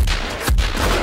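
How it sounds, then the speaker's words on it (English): A loud gunshot from an Antonio Sabato Jr. action movie, a single sharp crack in the middle of a short stretch of busy background noise. "Antonio Sabato Jr.'s guns, like amazing sounds."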